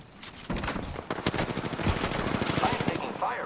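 Rapid automatic gunfire in the video game Apex Legends, with dense bursts of shots rattling off in quick succession and a few short gaps between volleys.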